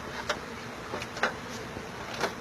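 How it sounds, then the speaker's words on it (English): Bees buzzing in the soffit of a house, a faint steady hum with a few brief louder passes as individual bees fly close. "They're going in the bees, all the bee channels, actually going into this wall"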